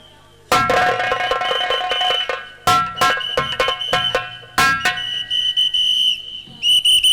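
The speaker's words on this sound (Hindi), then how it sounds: "सीटी बज रही है" Whistle blowing during a Hindi nautanki folk theatre performance: sustained shrill tones that recur over several seconds, loud and close, mixed with sharp percussive hits and musical accompaniment.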